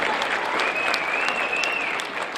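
Steady, loud applause from an audience fills the whole stretch, dense clapping without a break.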